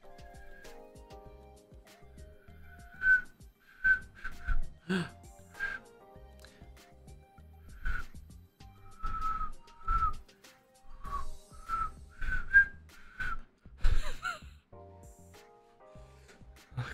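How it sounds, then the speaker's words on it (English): A person whistles in short, bright, wavering notes that come and go over several seconds, mixed with soft background game sounds. "My own whistling scared me."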